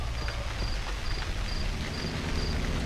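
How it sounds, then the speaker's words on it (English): Rain in the horror video game Cry of Fear, a steady dense hiss of downpour filling the whole stretch, with a faint repeating high beep ticking over it. "It's raining!"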